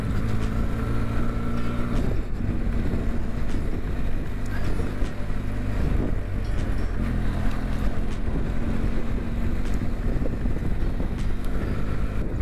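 A Benelli TRK 502X adventure motorcycle ridden off-road through the bush, its engine droning steadily and close with wind rushing across the microphone.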